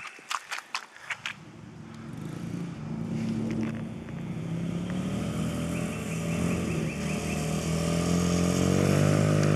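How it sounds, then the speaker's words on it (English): Kid's dirt bike engine revving steadily in deep mud, a sustained close motor drone building in loudness after a few sharp clicks and footstep-like thumps at the start. "First day in the real mud at Mima's house on your dirt bike"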